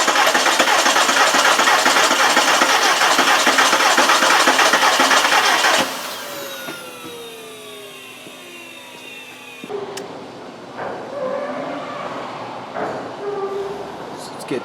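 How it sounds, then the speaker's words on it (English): The 1.8T engine of a 2000 Volkswagen Beetle cranks without starting, a loud rapid whirring churn that stops abruptly, followed by quieter mechanical clicks and ringing. "Crank it over."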